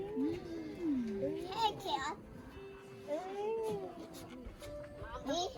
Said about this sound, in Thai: เออนั่นนั่นมีแมว อ่ะตีนังมามิลูกแมว